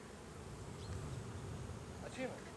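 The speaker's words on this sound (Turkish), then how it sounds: "Arı her yöne gidebiliyor burada." Bees buzz steadily around a quiet outdoor apiary among chestnut and linden trees, a continuous drone with individual insects flying close past now and then.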